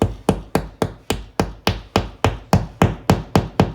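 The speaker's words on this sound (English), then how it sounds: "Hammer it the rest of the way." Hammering a plastic wall anchor into drywall: about fourteen sharp, evenly spaced hammer strikes at close range in a steady rhythm, each with a short knocking decay, and no talking.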